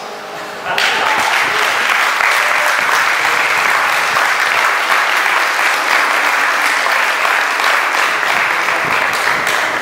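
An audience breaks into sustained applause after a brief quieter lead-in, dense steady clapping filling the room at close range and holding strong to the end.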